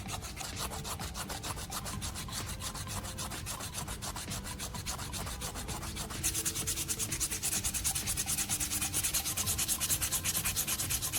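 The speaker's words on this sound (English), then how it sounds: "I'm using sanding paper to smooth out the repaired area on the outside" Sandpaper rubs in circular motions over a repaired crack in plastic, a close rhythmic scratchy rasp that grows louder and coarser partway through, with no voices.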